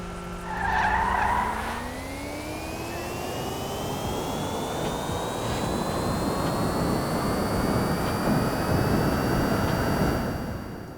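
A Coil Rocket Voltic supercar in GTA 5 drives alone and close, its engine whine climbing steadily in pitch under a broad roar of tyre and road noise.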